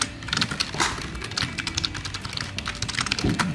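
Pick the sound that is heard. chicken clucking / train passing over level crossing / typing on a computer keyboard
typing on a computer keyboard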